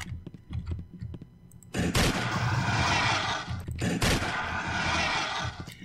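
Shotgun and machine gun fire in the video game Cemetery Warrior 3: scattered light shots, then two long, loud, dense bursts of sustained gunfire with a brief gap between them.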